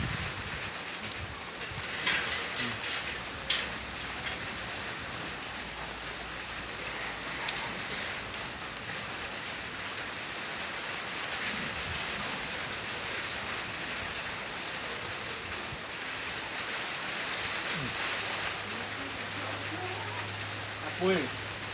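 Rain falls steadily outdoors as a storm approaches, a dense even hiss that continues throughout, with occasional nearby knocks and faint background sounds. A few brief voices occur, though no words are heard.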